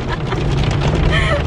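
Hail and rain falling outdoors during a storm, a dense, steady patter and rush of drops hitting surfaces with some wind noise, loud and close throughout.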